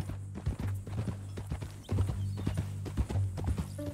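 Horse hooves clip-clop in a brisk, uneven rhythm, fairly close and clear, with a brief whinny-like sound mixed in and no talking.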